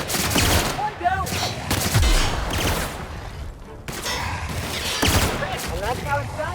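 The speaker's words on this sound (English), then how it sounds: "Returning fire! One down!" Rapid bursts of gunfire crackle in The Outer Worlds video game, with repeated shots and automatic volleys over several seconds while a character's voice calls out between them.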